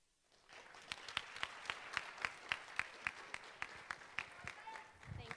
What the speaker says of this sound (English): round of applause for Nisha